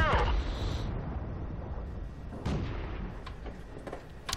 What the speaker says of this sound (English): now someone is shooting at him